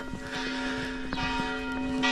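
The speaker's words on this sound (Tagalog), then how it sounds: "pasensya na kayo, may kampana, anong oras na" A church bell tolls at about five o'clock, its ringing hum sustained beneath repeated strikes, moderately distant and heard alone.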